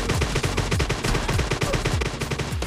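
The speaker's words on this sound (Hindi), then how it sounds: "सामने से गोलियां चली" Rapid automatic gunfire in PUBG Mobile, a loud, close, steady burst of evenly spaced shots running unbroken for a few seconds with no talk.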